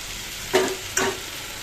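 Taro stolons fry with potato, coconut and chili powder in an iron wok, a steady loud sizzle broken by two quick, sharp stirring scrapes close by, with no one talking.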